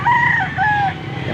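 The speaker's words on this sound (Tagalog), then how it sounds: "Ang dami ng mga manok dito." A rooster crows twice in quick succession, loud and close, at a poultry auction in Angeles, Pampanga, with a low hum of many other fowl and background noise underneath.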